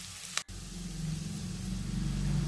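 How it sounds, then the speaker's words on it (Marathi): Chopped onion and crushed garlic sauté in a pan for a Marathi mixed-vegetable dish. A brief clunk comes first, then a steady close sizzle that swells and holds. "कांदा आपल्याला एक 2 ते 3 मिनिटं परतून घ्यायचा आहे"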